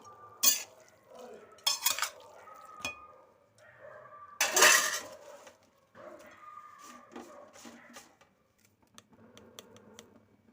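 Gobi Manchurian is stirred in a pan, heard as a series of close scraping and clattering bursts of the spoon against the pan, separated by quieter gaps with a few light ticks.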